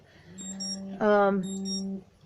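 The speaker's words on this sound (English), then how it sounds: "let me turn my alarm off" An electronic alarm drones with steady tones and intermittent high beeps, swelling into a louder buzzing burst midway before cutting off.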